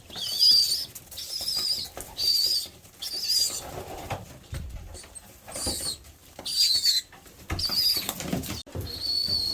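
Rapid pigeon wing flapping and fluttering in bursts, with short high squeaky calls, close and moderately loud, several episodes spread across the clip.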